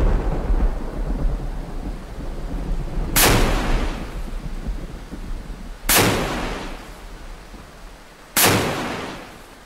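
Deck gun on a modded Type 45 destroyer fires in a video game, three loud, sharp blasts spaced a few seconds apart, each with a rolling, decaying boom, over a steady rumbling background.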